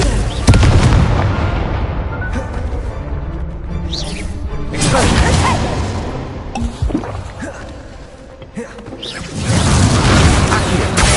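Confringo fire spell blasts in the Hogwarts Legacy video game, with loud booming explosions and whooshes that repeat across the clip over a constant dense battle din.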